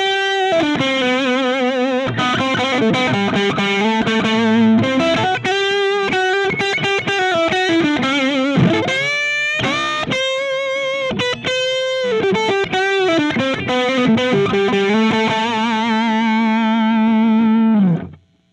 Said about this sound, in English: I'm just going to use the neck pickup in the full humbucking mode and just give you an idea of how warm this amp can sound.